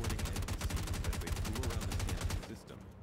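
Gunfire in the video game Star Citizen, rapid bursts of automatic shots that form a loud, near continuous stream before tapering off at the end, with a player's voice mixed in.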